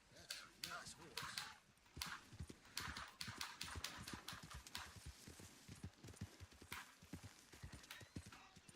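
Horse hooves clip-clop steadily through Red Dead Redemption 2, with an occasional whinny, while voices chat over the rhythmic footfalls.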